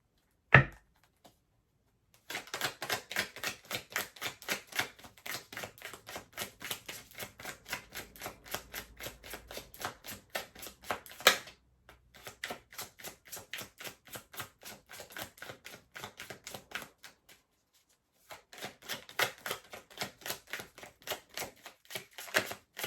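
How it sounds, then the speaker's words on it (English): Tarot cards being shuffled by hand, long runs of quick, evenly spaced crisp clicks and riffles, close and fairly quiet, broken by short pauses. "Cards keep wanting to come out, but they're not coming out."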